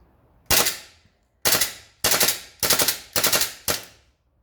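Airsoft gun firing at the range in a single crack and then several short bursts of three to four rapid snapping shots each, loud, close and evenly paced, with no talking.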